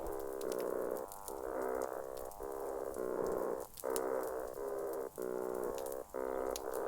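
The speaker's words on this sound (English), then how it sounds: "Why are they called toadfish? Because they sound like this." Toadfish calling underwater near a small island off the coast of Colombia, picked up by a hydrophone: a run of loud, buzzing, horn-like hums in even bursts of about half a second, separated by brief gaps.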